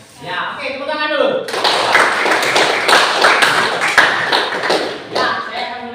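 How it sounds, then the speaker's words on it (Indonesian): A classroom of students applauding together, a dense, steady burst of clapping that starts abruptly and carries on for several seconds, loud and close, with voices chattering underneath and before it starts. "tepuk tangan dulu"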